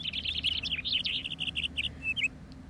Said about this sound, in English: heard the baby birds chirping happily.